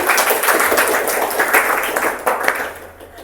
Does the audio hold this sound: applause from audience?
yes